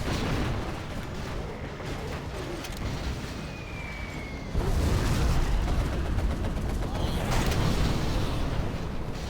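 A real-time strategy battle between infantry and demo forces crackles with continuous distant gunfire, mechanical creaks and rumbling artillery blasts, swelling louder midway, while a caster talks over the action.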